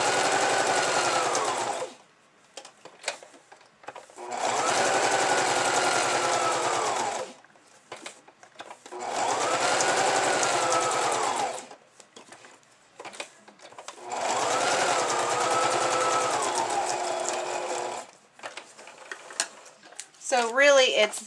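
Sewing machine stitching through a paper bag scrapbook album, four steady whirring runs of several seconds each, separated by brief quiet pauses, close and clear.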